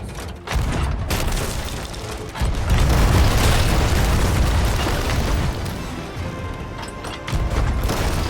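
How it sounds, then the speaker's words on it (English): Ship cannons fire in a pirate video game. Heavy, booming blasts roll together into a continuous dense rumble with sharp bursts at the start and near the end, with no voices over them. "I believe that means he'd like us to use the cannons."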